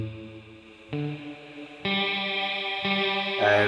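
Electric guitar chords ring out in a few sustained strikes, each change bringing a fuller, louder tone, with a light reverb tail softening the edges.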